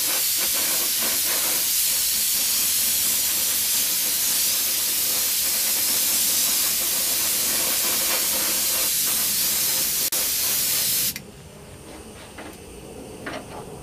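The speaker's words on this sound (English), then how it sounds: "I started the airbrush off the part, brought it over to the part, did the whole part, and then shut the air off." Airbrush spraying clear coat on a motorcycle part during an FZR cafe racer restoration, a loud steady hiss of air and spray running close for about eleven seconds before cutting off abruptly to a faint background.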